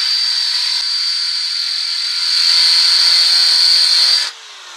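A power drill bores a 12mm hole for a narrowboat cleat, a loud continuous high whine that rises in strain partway through, then cuts off abruptly near the end.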